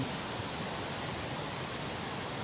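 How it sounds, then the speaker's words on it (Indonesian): Water pours steadily over a spillway below the Niyama tunnel near Tulungagung as an even, broadband rushing roar. It stays constant and fairly distant throughout, with no voices. "air terjun ini bukan air terjun ya, spillway ini agak naik ya"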